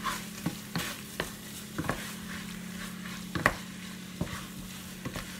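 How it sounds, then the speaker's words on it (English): A generous tablespoon of curry powder is stirred and cooked dry in a pan for a curry. A steady soft sizzle runs underneath, broken by regular scraping strokes of the spoon against the pan. "Just stir that in and I just cook it dry for a minute or so, keeping it stirring."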